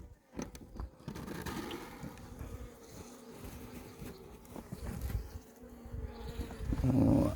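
Honeybees buzz continuously at close range during a hive inspection after artificial swarm splitting, a low droning hum mixed with scraping and crunching handling noises.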